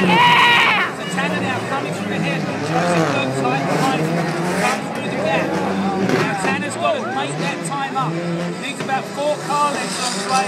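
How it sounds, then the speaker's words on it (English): Rally car sliding and skidding around a Global Rallycross race track, engine roaring and tires scrabbling loudly throughout under a commentator's continuous talk. "Tanner's in the boneyard, sliding that car around."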